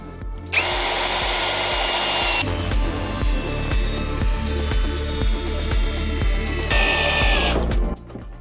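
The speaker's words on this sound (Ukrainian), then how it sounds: "давайте попробуємо завернути глухар 300 мм" ProCraft CD20B cordless screwdriver drives a long lag screw into wood, its motor whining loudly and steadily with a pulsing load as the screw bites, the pitch shifting partway through before the drive stops abruptly.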